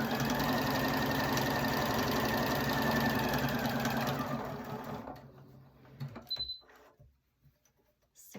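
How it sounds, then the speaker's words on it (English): Sewing machine stitching quilt fabric for half square triangle blocks, a fast steady mechanical whir running for about four seconds, then stopping, with a few small clicks and handling sounds after. "go ahead and stitch 1/4 inch on either side of that diagonal line that you just drew"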